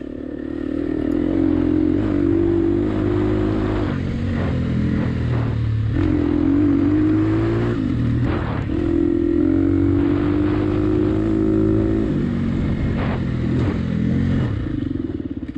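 Dirt bike engine revving hard during a family enduro race on wooded trails, loud and close with repeated rising and falling pitch as the throttle opens and closes, plus clatter and scrapes from the terrain.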